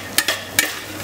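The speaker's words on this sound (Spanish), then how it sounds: "Añadimos el pimentón dulce. Sofreímos durante un minuto y medio." Sweet paprika sautés for paella over low heat, a soft steady sizzle with a few sharp scrapes of a spoon against the pan standing out in quick succession.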